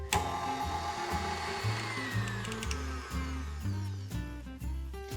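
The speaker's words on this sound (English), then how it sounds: "we're going to mix this together until it's well blended" An electric mixer beats creamed butter and brown sugar together in a bowl, a steady motor whir that shifts in pitch as the load changes, moderately quiet with no talking.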